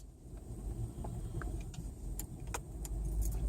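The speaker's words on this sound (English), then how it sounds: "let me just move the car up." A car is driven a short distance to move it up, its engine idling and rolling in a low rumble with small clicks and jangles nearby, fairly faint and without talk.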